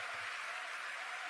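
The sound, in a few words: audience applauding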